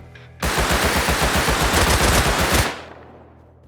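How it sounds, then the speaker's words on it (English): Rapid automatic gunfire from the video game Rust, played on PS5 console, rattles off in one continuous burst of about two seconds, loud and sharp with evenly spaced shots. "I ended up hearing a bunch of gunshots at dawn after we got back."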